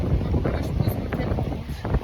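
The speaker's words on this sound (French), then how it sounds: "Ça fait trop chaud, il y a un grave du vent." Strong wind buffeting the microphone on a beach in Mauritius, a steady low rumble with gusty surges throughout the short stretch, with no clear voices.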